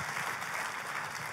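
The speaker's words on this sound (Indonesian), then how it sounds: "Kita kasih tepuk tangannya boleh yang paling meriah buat Tuhan kita." Church congregation applauding together, a dense, even wash of clapping heard at moderate distance, brief and steady without voices.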